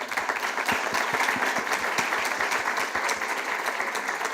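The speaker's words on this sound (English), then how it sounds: "let me join me please in a big round of applause for our panelists" A conference audience applauds panelists at the close of a tax symposium session, a steady, dense round of clapping that holds at even strength from start to finish with no voices over it.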